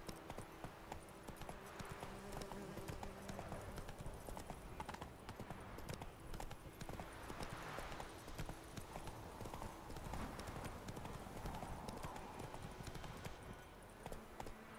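Roach, a horse in The Witcher 3, gallops with steady rapid hoofbeats throughout, loud and continuous over game ambience, with a possible brief whinny.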